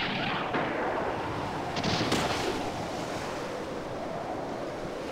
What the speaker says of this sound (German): Der Wind weht mich fast weg.